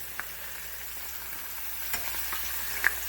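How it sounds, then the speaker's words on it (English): Hen of the woods mushrooms fry in butter in a pan, a soft, even sizzle with a few faint stirring taps, no voices. "All I did was throw some butter in there. I'm just going to fry them down."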